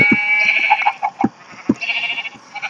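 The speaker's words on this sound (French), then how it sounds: "en plus il y a des moutons ici" Sheep in the Minecraft video game bleat repeatedly, several wavering cries overlapping with short thumps, loud and close, without talking.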